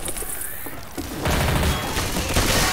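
Gunfire in Left 4 Dead 2: after a quieter lead-in, a dense, loud fusillade of shots breaks out and keeps going to the end.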